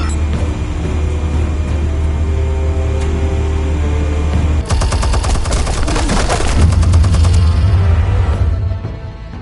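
Gunfire and explosives in the Batman: The Telltale Series video game: a low rumbling hum gives way to a sudden, loud burst of rapid automatic fire and blasts that hammers on for several seconds, then fades.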